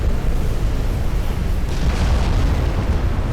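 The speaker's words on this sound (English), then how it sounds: "Flash fire on the Montpelier. Looks like it's one of his side guns." A warship's flash fire explosion in the naval game UA: Dreadnoughts, a loud sustained roaring boom with dense rumbling low end and crackling burst, continuous throughout without talk.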